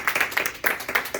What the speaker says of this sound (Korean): 그냥 그러면 박수로 한번 환영하겠습니다